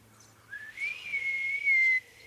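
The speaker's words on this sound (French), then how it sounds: "Siffle pour voir." A single long, steady human whistle in the video game Ghost of Yotei rises slightly and then holds one high pitch for over a second, clear and alone over a faint low hum.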